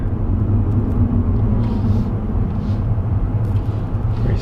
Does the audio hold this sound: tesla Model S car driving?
yes